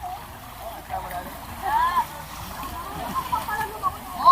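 Someone jumps into a hot spring pool at Silva Hot Spring Resort in Laguna, giving soft splashes and sloshing water at moderate distance, with voices around.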